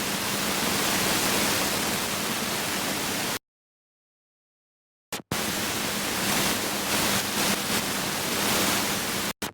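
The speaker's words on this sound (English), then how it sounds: "changing the perceived loudness for this white noise sweep" Steady broadband hiss, like white or pink noise, from a white noise sweep pushed into a clipper's ceiling, fills the clip, cutting to silence for about two seconds before resuming at the same loudness.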